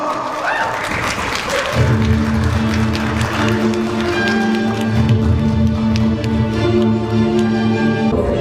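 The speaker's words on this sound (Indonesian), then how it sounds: "beri tepuk tangannya yang meriah dan sangat kencang" A crowd applauds loudly at a training event in Manado, Indonesia, a dense wash of clapping with thumps, while a tonal hum runs underneath.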